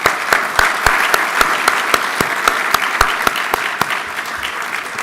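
Audience applause at an awards brunch, steady sustained clapping from a crowd with sharp individual claps standing out, filling the whole stretch at even volume.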